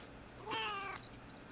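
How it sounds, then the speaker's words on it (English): A pet cat named Fuzzington gives a single short, close meow lasting about half a second, squeezed out by a person, with quiet room tone before and after. "Can I get you to meow into the not camera"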